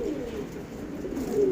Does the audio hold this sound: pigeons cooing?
yes